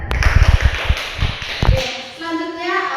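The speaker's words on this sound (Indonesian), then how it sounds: "Tepuk tangan dulu untuk minta." Classroom applause, a short burst of hand clapping from students lasting about two seconds before a voice and ringing tones take over.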